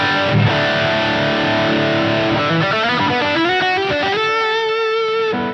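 Distorted electric guitar played through an Engl Savage 120 amp and a cabinet miked with a kick drum mic, loud and sustained, with chords ringing out and shifting notes, no voices.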